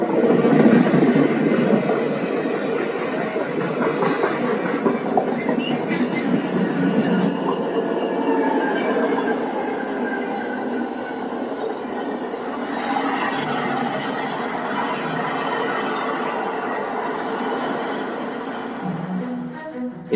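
A train with dome cars rolls steadily past, close and loud, with a continuous rumble and rattling wheels that shift slightly in tone midway.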